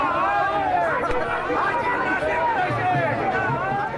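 Dense crowd of Samajwadi Party workers celebrating in a street in Moradabad, Uttar Pradesh, a loud continuous babble of many voices with shouts, close and unbroken throughout.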